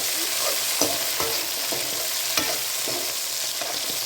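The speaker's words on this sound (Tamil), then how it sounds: "நல்லா கிளறி விடுங்க" Tomatoes and garlic fry in a pan with a constant sizzle, while a spatula stirs and taps against the pan in occasional sharp knocks, close and without talk.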